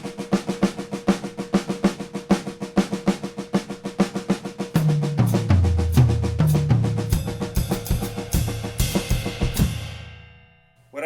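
Steady, rapid drum strokes repeat in a grouped rhythmic pattern, later joined by deep tom hits and a crashing cymbal near the end.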